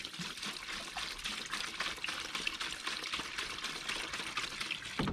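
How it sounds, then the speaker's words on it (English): Water pours from close by into a container to dilute car cleaner, a faint, steady splashing trickle with no talking. "we are going to dilute it down. Got a little bit of water in there."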